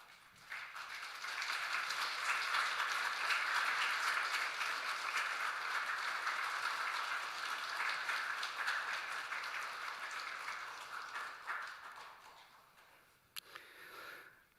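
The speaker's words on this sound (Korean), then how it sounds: "우리 전달할 때 큰 박수로 격려하도록 하겠습니다." Congregation applause during a Sunday church service at Samcheok Central Church, a sustained round of many hands clapping that swells early, holds for about ten seconds, then tapers off with a few last scattered claps.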